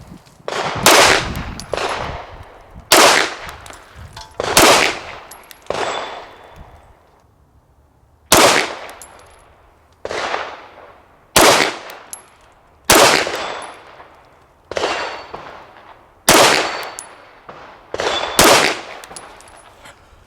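Series of loud, sharp handgun shots fired during non-dominant hand shooting practice, about a dozen evenly spaced reports, each with a short decaying echo, and no talking.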